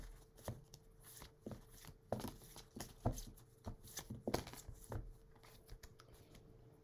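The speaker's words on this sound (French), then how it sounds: "Alors, je tire les cartes et puis on en cause." Tarot cards are shuffled and drawn close up, making a string of quick papery flicks and soft slaps in an irregular rhythm, fairly quiet and with no talk.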